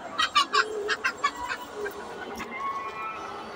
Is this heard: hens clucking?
yes